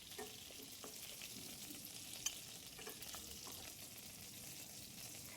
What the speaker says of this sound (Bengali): কিছুক্ষণ ভেজে নেওয়ার পরে উল্টে দিচ্ছি, উল্টো দিকটা ভাজা হওয়ার জন্য।